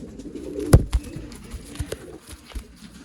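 Pigeons at a bird sale in Bangalore, with soft low cooing and a sharp knock or flutter near the start, then scattered light rustles and small thumps close by.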